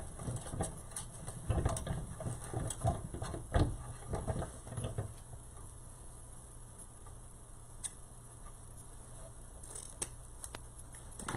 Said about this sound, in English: now we trim the ones down on the bottom tails